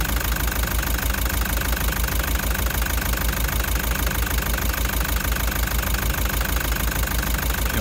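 A car engine with a cracked piston runs steadily close up, giving a loud, even mechanical clatter with a rhythmic knocking pulse and no talking over it.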